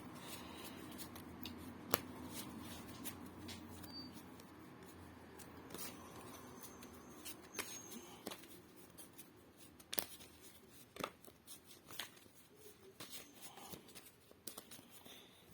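A cat named Pearl knocks Lenormand tarot cards off a table, making quiet, scattered light flicks and soft card rustles with a few sharper taps.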